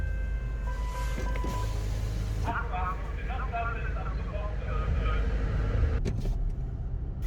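A Cupra car interior while driving, with a steady engine and road rumble throughout and people talking over it.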